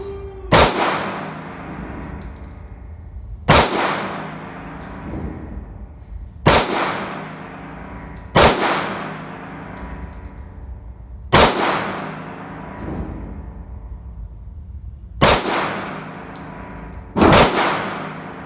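Seven loud pistol shots from an IWI Jericho ring out one at a time at a slow, irregular pace, each a sharp close crack with a long decaying ring.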